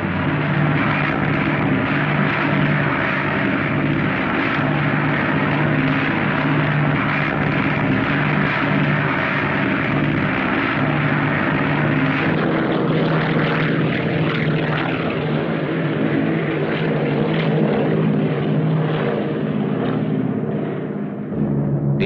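Propeller transport planes loaded with parachuted supplies for a wartime jungle supply drop drone steadily and loudly overhead, a continuous engine roar with no voices.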